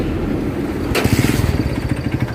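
Kawasaki Barako 3 motorcycle with a Yutaka exhaust pipe, its engine catching and settling into a steady, close, rapidly pulsing putter that runs on alone.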